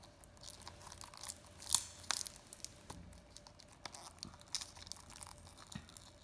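Plastic wrap on a Pokémon Ultra Moon steelbook is torn and crinkled open by hand, a quiet, close series of irregular rips and crackles with a few sharper snaps.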